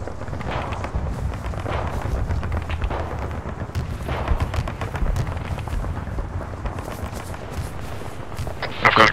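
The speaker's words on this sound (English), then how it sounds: "Yeah, they're opening fire on the tower." Sustained gunfire and distant explosive booms in a military video game mission, a dense rumbling battle bed with scattered shot cracks throughout, steady and loud, with a sharper burst at the end.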